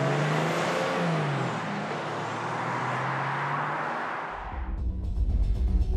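A car drives along with a steady, loud engine and road roar that holds for several seconds, then the tone drops abruptly into a deeper, rumbling low sound near the end.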